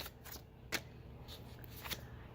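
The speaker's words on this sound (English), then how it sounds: "Here is your warranty card for Voopoo. You open it up." A paper warranty card envelope for a Voopoo pod vape device is opened with a few close, crisp paper rustles and flicks, quiet and brief.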